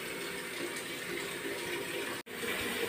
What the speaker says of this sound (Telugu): ముందు సర్ఫ్ కలిపి నీళ్ళు పోసేస్తున్నా.